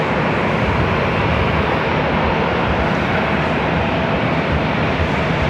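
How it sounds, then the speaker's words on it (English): A Southwest Airlines Boeing 737-700 jet on Flight 380 to Sacramento produces a loud, constant engine roar at Los Angeles airport, a dense, even rumble that holds steady for several seconds with no talk. "You're looking at Southwest Airlines Flight 380 heading to Sacramento,"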